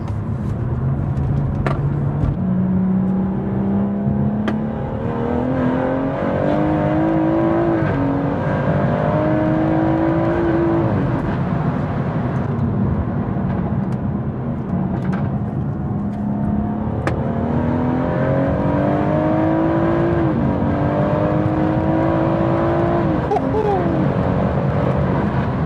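A tuned BMW M140i with a turbocharged engine accelerates hard through manual gears in sport mode, the engine note climbing in repeated rising sweeps with brief drops at each shift and turbo whoosh over a loud, steady cabin drone.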